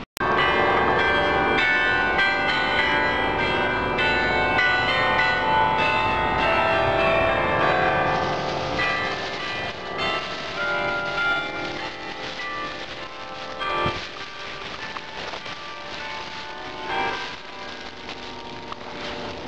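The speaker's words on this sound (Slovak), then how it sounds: "pri zvuku zvonkohry, ktorá vyspevuje hymnu Európskej únie, pred vchodom do tohto kostola" A church carillon chimes out the European Union anthem in front of a church on a town square, its bell tones ringing steadily and fairly loud throughout, with street noise underneath and no talking.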